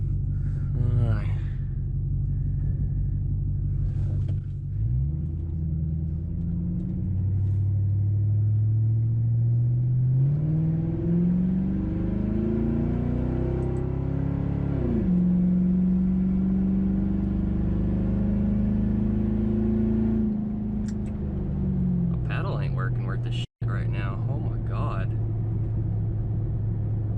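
A Ford Crown Victoria or Mercury Grand Marquis V8 with an H-pipe exhaust rumbles and revs, pitch climbing and dropping through gear changes as it accelerates, with a voice talking at the start and end.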